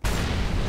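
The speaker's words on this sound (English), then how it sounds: "Deploying flashbang" A flashbang grenade detonates in a CS:GO competitive match, one sharp close burst that fills the whole short moment with a loud, dense boom and hiss.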